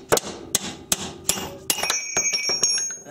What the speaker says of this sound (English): Use the chisel.